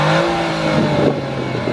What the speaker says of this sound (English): I'm gonna do an exhaust,